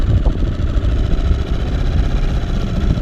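A motorcycle engine with a new carburetor, already warmed up, runs close up outdoors with a loud, steady, low rumble and no clear changes in pitch.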